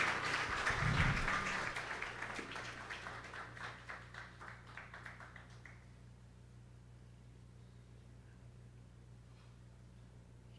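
A Ganesh Utsav audience at a devotional evening gathering breaks into applause that is loudest at the start, then thins into scattered claps and fades to quiet room tone by about six seconds.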